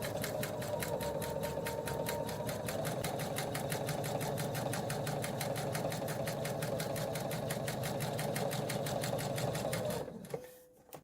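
A sewing machine stitches a quilt block along a marked line in a fast, steady stream of even needle strokes for about ten seconds, then stops abruptly.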